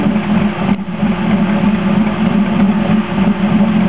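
A 2008 Corvette's LS3 engine idles on a test run, holding a steady, even low rumble close by for the whole stretch with no revving and no voices.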